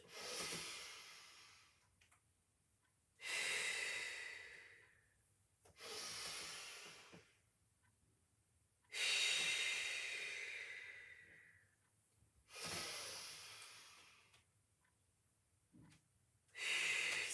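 Slow deep breathing during a Pilates exercise: six long breaths, each a soft hissing rush of air lasting about two seconds, separated by quiet pauses, close and alone.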